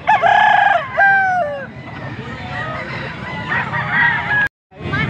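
Roosters at a market in Angeles, Pampanga crow loudly and close by, long drawn-out calls overlapping with clucks and honk-like squawks from other fowl, then a brief drop to near silence before the noise resumes.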